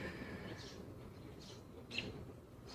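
Birds singing outside on a morning, faint scattered chirps and calls over a quiet background hum, with a slightly louder call near the end.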